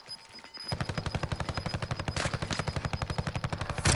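Rapid automatic gunfire in Call of Duty Warzone rattles in a steady, fast rhythm of evenly spaced shots, loud and continuous after a brief quiet start.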